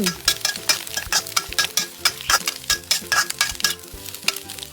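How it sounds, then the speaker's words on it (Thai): Egg stir-fried with carrot and cabbage in a pan, a spatula scraping and tapping in a steady rhythm over a soft sizzle, close and alone. "ใส่แครอทลงไป ตามด้วยกระหล่ำปลี ผัดคลุกเคล้าให้เข้ากัน"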